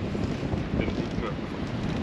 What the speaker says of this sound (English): Let's go out, it's very windy.